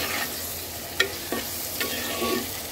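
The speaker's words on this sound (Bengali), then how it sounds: "এবার মশলাটাকে আর সবজিটাকে খুব সুন্দর করে ভাজা ভাজা করব" Potatoes and beans with turmeric and coriander powder are stir-fried in a pan, giving a soft steady sizzle broken by a few sharp scrapes and clicks of the spatula, fairly quiet and with no talking.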